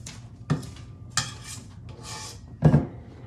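A spatula scrapes peanut butter banana cake batter around a bowl in a few short, soft scuffing strokes with light clinks, quiet and close.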